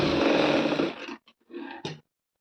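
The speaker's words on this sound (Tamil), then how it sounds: "எடுத்துட்டு கரெக்டாக பார்த்து அதை வந்து தைச்சிக்கிறோங்க" A sewing machine stitching bra cup lining runs in a loud continuous whir for about a second, then stops, followed by two shorter bursts of stitching.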